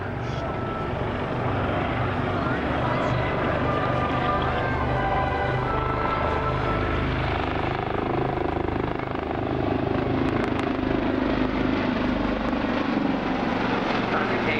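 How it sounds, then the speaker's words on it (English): A Fairey Swordfish biplane, first flown in 1934, passing over the Southport Air Show, its propeller engine droning as a steady loud roar through the whole stretch, with crowd and announcer sound faint beneath. "The aircraft first flew in 1934 and was taken into the Royal Navy service in 1936 as the Swordfish Mark I."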